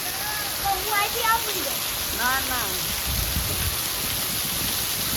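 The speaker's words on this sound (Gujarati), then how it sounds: "તો જો બહુ વરસાદ આવે છે ને જળબંબાકાર થઈ ગયો આ પાણી" Heavy rain pours down during a Navratri celebration near a festival tent, a steady dense roar of water that lasts throughout, with voices talking over it.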